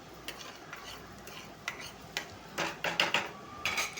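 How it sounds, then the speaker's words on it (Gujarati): A spoon scraping and stirring garlic, ajwain and asafoetida in hot oil in a kadai, quiet at first and then a run of louder metallic scrapes near the end over a faint sizzle. "નાખીને એકવાર ચમચો ફેરવીને તેને હલાવી લેવાનું છે."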